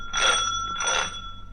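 Two bright ringing tones chime in quick succession, clear and sustained, with a faint hum underneath.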